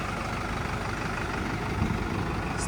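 A new Case 110 tractor engine idles nearby, a steady low rumbling throb with even texture throughout and no talk.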